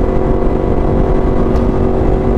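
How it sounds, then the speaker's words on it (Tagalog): Yamaha R1 motorcycle exhaust heard while riding, a loud, steady engine drone with wind noise close to the mic. "pumapasok pa rin yung tunog ng exhaust."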